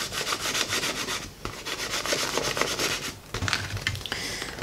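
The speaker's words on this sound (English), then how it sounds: "I'm going to gently go in with my scraper" A plastic scraper presses vinyl down onto an inflated balloon, giving a steady close rubbing and squeaking scrape with short pauses between strokes, no talking.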